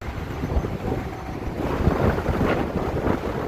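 Strong wind gusts buffet the microphone on a tall bridge high above a highway, a continuous close roaring rush with low thumps, no voices.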